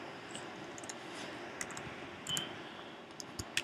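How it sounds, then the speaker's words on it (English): Faint, sparse key clicks from a computer keyboard as a command is typed into a terminal, with soft steady background hiss and no voices. "once you open your terminal, you just type SSH space root"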